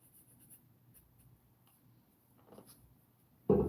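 Soft pastel sticks scratch and drag across paper in quiet, close strokes, ending in a sudden louder rub or tap.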